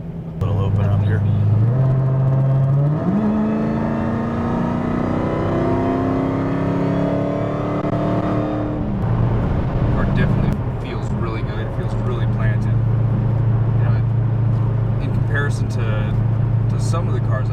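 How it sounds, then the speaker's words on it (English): A supercharged 900 WHP Dodge Hellcat accelerates hard from inside the car, engine roar rising through the gears with a steady high blower whine, loud and close while people talk over it. "It's a really good sound for that blower."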